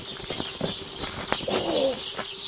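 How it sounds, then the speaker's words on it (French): Pigeons or doves cooing close by, with a burst of flapping wings midway and scattered chirps over a steady background hum, no speech. "Griffin, éloignez-moi ces oiseaux stupides."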